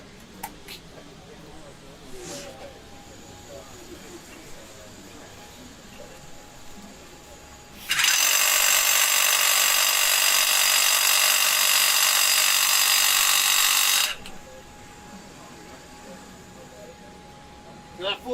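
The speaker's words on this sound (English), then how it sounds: "So the solution is that full carbide head Diablo rebar demon." A Diablo full carbide head rebar demon bit bores into concrete, a loud, harsh grinding-hammering roar that starts abruptly and runs steadily for about six seconds before cutting off, with quieter shop noise around it.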